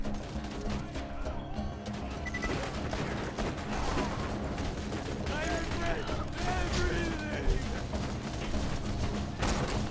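Steady gunfire fills a Borderlands 2 firefight, with shots and mechanical clatter running continuously and layered over one another while a player talks throughout.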